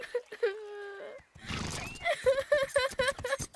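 A cartoon horse in Horseland gives a clear whinny, a long wavering neigh, followed by a run of rhythmic snorting, huffing calls, close and fairly loud.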